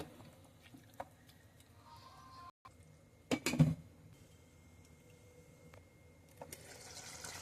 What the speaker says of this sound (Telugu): కొన్ని తగినన్ని వాటర్ వేసుకోవచ్చండి